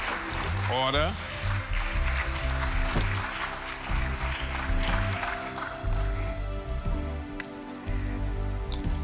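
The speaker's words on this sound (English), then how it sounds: "please give a round of applause to those persons who serve as members." Audience applause at a national honours investiture ceremony rolls on steadily as a broad patter, with an amplified voice speaking over it.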